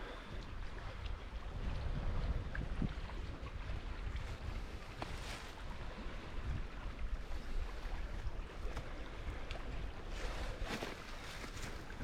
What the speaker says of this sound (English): hopefully the wind dies